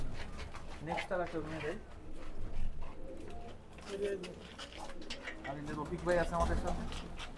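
Several pigeons coo in low, rolling bursts nearby in a large pigeon loft in Khulna, Bangladesh, while people talk over them.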